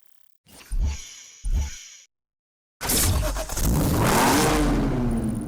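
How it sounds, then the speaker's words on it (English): A BMW M6 convertible with a titanium exhaust in the racing game Need for Speed Hot Pursuit gives two short, sharp revs with silence between, then a sustained loud rising engine roar as it accelerates. "you'll find them fulfilled by the BMW M6 convertible."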